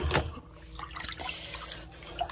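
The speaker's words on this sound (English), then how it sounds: "See, that's a lot of water that needs to go in." Water poured into a pet water fountain for cats, a close, moderately loud splash and trickle with scattered drips, no speech.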